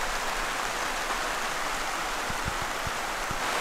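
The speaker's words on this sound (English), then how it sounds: "It has started raining pretty bad out, so we're gonna chill out in here" Heavy rain falls steadily outside a garden greenhouse in Alaska in June, a dense even hiss with a few sharp drops striking nearby surfaces.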